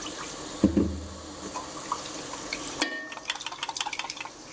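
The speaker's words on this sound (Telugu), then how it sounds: "తర్వాత కొంచెం నీళ్లు పోసేసేద్దాం" Water is poured into a pot of mushroom biryani on the stove: a soft thud early on, a quiet stretch, then a run of close splashing and sloshing.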